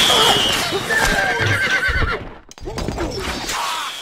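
A horse in the video game Stronghold Crusader whinnies loudly over rapid hoofbeats, then a brief lull before galloping resumes, with a voice speaking faintly underneath.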